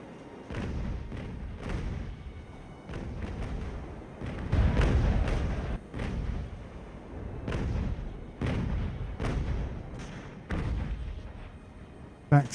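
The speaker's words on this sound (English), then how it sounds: "Put some grape shot right into their faces now that they're slightly panicking." Grape shot cannon fire booms in the naval battle game Ultimate Admiral Age of Sail, a ragged series of heavy thuds and blasts repeating every second or so, some overlapping, with rumbling tails.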